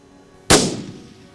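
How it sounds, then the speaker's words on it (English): A single loud rifle shot fired at a pronghorn antelope during a hunt in open country, a sharp close crack followed by a rolling echo that fades over about a second. "What an unbelievable shot. Down goes a trophy antelope."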